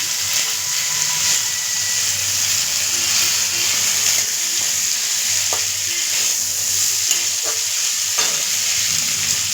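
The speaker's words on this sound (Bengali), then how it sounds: "আলুর সাথে কলাইটাও দিয়ে দিলাম একটু হালকা করে নাড়াচাড়া করে কিন্তু ভেজে নিচ্ছি" Potatoes and peas fry loudly in hot oil, a dense continuous sizzle with steam hiss and occasional light stirring taps from the spoon, with no talking.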